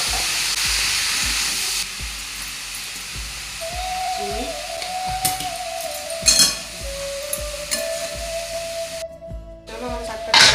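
Boiled greens frying in a pan of oil with turmeric give a steady close sizzle and hiss, broken by occasional clinks of a utensil against the pan and a faint sustained whine.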